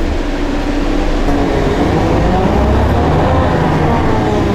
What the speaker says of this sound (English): this bus is just so old and so loud